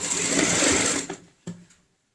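A sewing machine stitches a round cushion cover, running in a steady close whir for about a second before stopping, then a brief second burst and a faint click.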